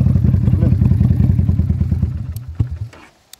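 A motorcycle engine labours at close range while riding a rough road with no proper track and low ground clearance, its throbbing pulses steady and loud before easing off, with a couple of sharp knocks near the end.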